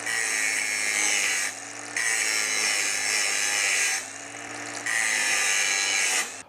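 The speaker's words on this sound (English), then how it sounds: "let's grind a little on the other end" An angle grinder works metal on a tractor box blade in three long, loud, steady passes with brief dips between them, up close.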